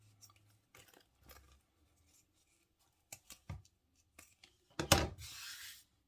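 Scissors snipping excess zipper tape while sewing a fabric pouch, with a few sharp close cuts and rustling fabric in a quiet room.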